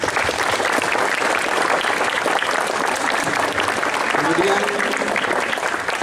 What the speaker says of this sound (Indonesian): Kita kasih aplaus ya anak-anak